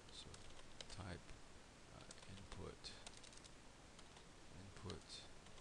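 Fingers type on a computer keyboard in quick, close bursts of light clicks with short pauses between them, under a faint background hiss.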